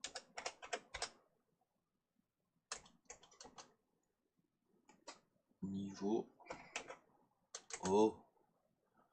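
Computer keyboard keys clicking in short bursts while a Construct 2 tilemap object is renamed, the taps scattered between stretches of a man's close speech.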